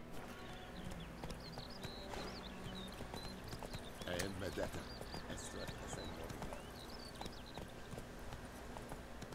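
Hooves of a galloping horse in The Witcher 3: Wild Hunt clop in a fast, steady rhythm throughout, mid-distance and fairly constant, with a brief louder burst of movement around the middle and faint ambient game sounds underneath.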